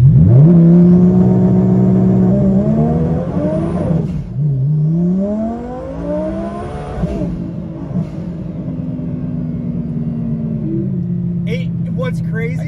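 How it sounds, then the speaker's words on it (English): A car's engine revs hard while its tires spin without traction, a loud rising and falling whine that surges, drops and climbs again, with people talking over it inside the car. "the tires were spinning so fast that you can feel the end of the car raised from the tires"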